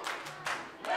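Applause from a wrestling crowd at an NCW event in Sainte-Thérèse, in three broad surges of clapping that swell, ease off and build again, fairly close and steady.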